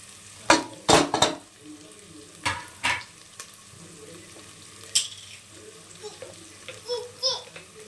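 Chopped mint and coriander fry in a pan for mutton pulao, with a low sizzle under sharp scraping and clattering stirs, and brief voices in the background.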